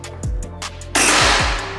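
A lone Ghost Warrior V2 air rifle shot bursts out with a sharp crack and a short noisy decay, preceded and followed by small clicks.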